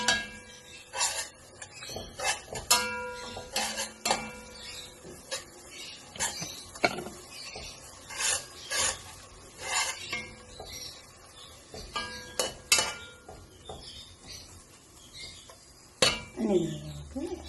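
A spoon scrapes and clinks against a pan while onions are stirred for chicken korma, giving irregular metallic taps and scrapes at close range that recur throughout with brief pauses.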